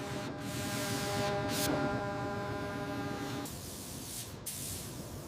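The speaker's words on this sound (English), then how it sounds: "Spraying nose to tail base coat." A steady hiss of spray paint as base coat is sprayed over primer on metal runs continuously with a faint tonal hum beneath, shifting slightly partway through, with no talking.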